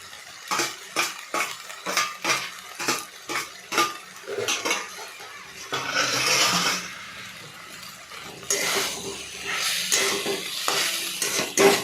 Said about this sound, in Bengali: তারপর আস্তে আস্তে তার মধ্যে মাছের ডিম ভাজাগুলো দিয়ে দিলাম।